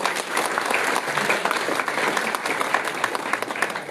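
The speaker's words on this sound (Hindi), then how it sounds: "तालियों से स्वागत कीजिए इन सभी छात्र छात्राओं का।" Steady applause from an audience at a school bhajan programme in Shimla, a continuous wash of many hands clapping at moderate volume, with no voices standing out.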